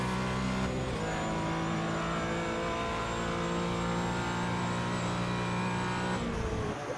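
A race car engine at full throttle in the iRacing simulator during an endurance race at Sebring, holding a steady loud high-revving drone before a brief lift at the end.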